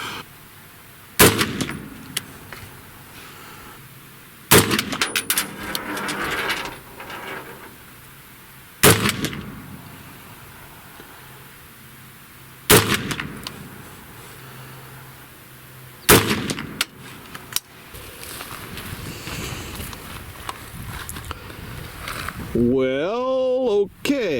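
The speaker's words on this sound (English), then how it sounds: "let's just fire one more group and see if that tells us anything." A rifle fitted with a generic scout scope fires a group of five spaced shots, each a sharp loud crack with a short ringing tail, separated by pauses of a few seconds.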